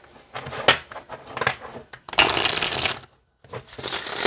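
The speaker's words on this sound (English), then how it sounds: "Yeah, they shuffle great." Oracle cards shuffled up close in loud, rough riffling bursts, short flurries at first and then a longer dense run, a brief silence, and another burst.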